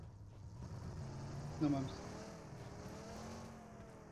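Vehicle driving in the battle royale game PUBG Mobile, a steady low engine drone running throughout with a brief louder surge midway, under excited voices talking.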